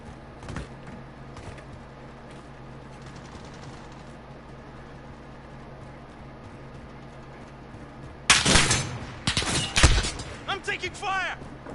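Gunfire in a battle-royale style video game: after a quiet stretch with faint distant pops, a sudden loud burst of rapid shots hits close, followed by further volleys, with voices heard at times.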